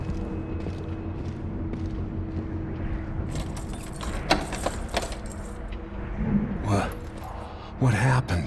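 Keys jangle in the Dishonored 2 video game, a metallic rattle with scattered clinks and creaks over a steady ambient game hum, with voices speaking briefly.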